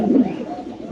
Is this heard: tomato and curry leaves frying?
no